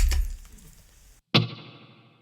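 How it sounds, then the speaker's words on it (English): Two brief electric guitar hits through a Line 6 Helix Fullerton amp model, the second a struck chord that rings out into a splashy, decaying '63 spring-reverb tail. "And then the 63 spring reverb."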